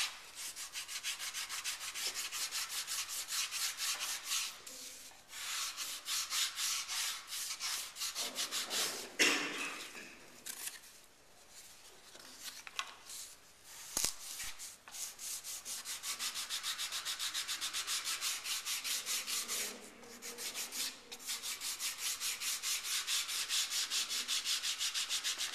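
A knife blade is sharpened with long repeated rubbing, rasping strokes and a few short pauses between passes, close and fairly steady throughout.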